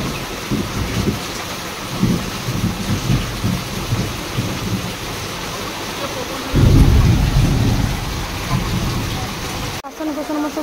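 Heavy monsoon rain drums loudly and steadily on a tin roof, with deep thunder rumbling throughout and a strong roll in the second half.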